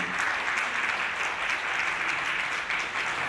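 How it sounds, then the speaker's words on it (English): Sustained applause from a large conference audience honouring the organisers, dense steady clapping heard alone without speech, moderately loud throughout. "Give them a round of applause for me"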